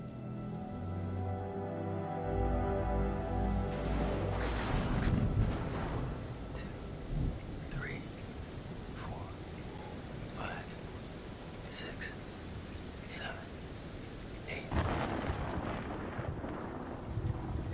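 Low rumbling thunder from a storm in the Man of Medan video game, a long deep roll with a couple of louder swells amid ambient game sound and quiet voices.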